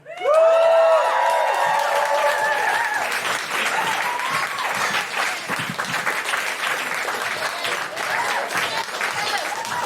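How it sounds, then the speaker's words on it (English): A comedy show audience bursts into loud applause and cheering, with whoops rising over dense clapping that starts abruptly and carries on strongly for about ten seconds. "Another round of applause for the Mollusc Dimension!"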